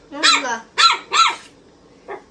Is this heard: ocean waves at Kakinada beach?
no